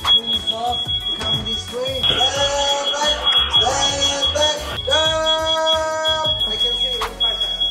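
Aircraft cabin evacuation alarm, a piercing steady high-pitched tone sounding loudly and continuously while people talk and move around beneath it.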